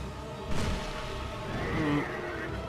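A horse neighs in the Executioner's Chariot fight of the video game Dark Souls 2, a brief whinny over a dense, rumbling game backdrop with no talking.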